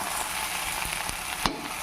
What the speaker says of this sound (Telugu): ఒకసారి గరిటె పెట్టి పైకి కిందకి తిప్పుకుందాం